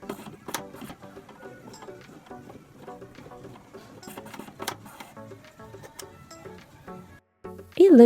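A nail printer machine printing a letter design onto a fingernail, giving a steady run of mechanical ticking and whirring that stops near the end and gives way to a brief louder sound.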